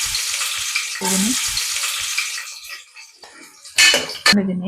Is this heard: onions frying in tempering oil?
yes